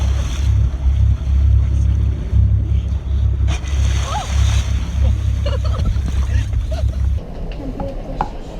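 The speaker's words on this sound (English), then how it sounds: "Nice ocean swells." Ocean swells wash around a sailing catamaran crossing from the Mediterranean into the Atlantic, a continuous low surge of water and wind with occasional faint knocks aboard and some quiet voices in the background.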